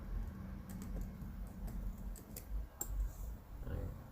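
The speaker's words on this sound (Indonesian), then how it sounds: "menekan tombol kontrol atau tombol CTRL ditambah tombol D pada keyboard secara bersamaan" Computer keyboard keys click sharply in a short, irregular run of presses, close and fairly quiet over a low steady hum.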